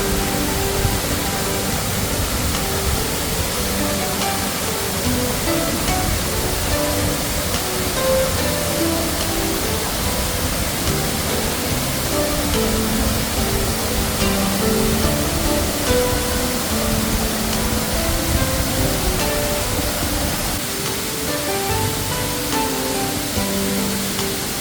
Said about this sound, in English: to have this beautiful waterfall all to myself was amazing